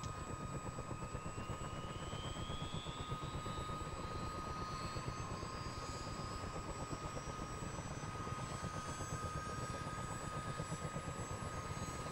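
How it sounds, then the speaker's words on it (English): A CH47 Chinook helicopter engine spools up in a flight simulator, a steady dense turbine roar with a fast chopping pulse and a high whine rising across the whole stretch, constant and unbroken. "flick the engine start switch over to engine 1 and wait for it to start"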